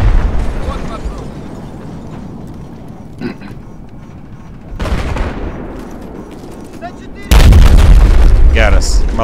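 Loud explosions and booms from a tank blowing up in a Battlefield video game, with rumbling blasts building to a heavy final burst, amid game noise.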